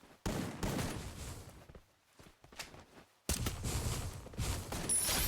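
Desert Eagle fire in the Free Fire shooter game, dense bursts of loud shots and clatter with a brief quiet gap before another loud volley.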